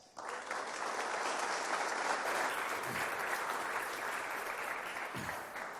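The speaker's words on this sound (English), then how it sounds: "And one more big round of applause." A presenter is welcomed with a burst of audience applause that starts abruptly and holds as a thick, even wash of clapping for several seconds, with no talking over it.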